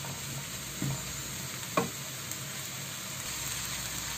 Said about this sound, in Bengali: আমি একটু ভেজে নিলাম মশলাটা শুকনো এই কড়াইটার মধ্যেই